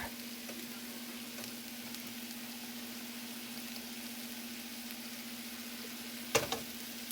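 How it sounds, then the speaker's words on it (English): Meatballs fry in a pan with soft, steady sizzling crackles, a steady low hum underneath and a brief clatter near the end. "It's cooking off its own oils. Listen to that sizzle."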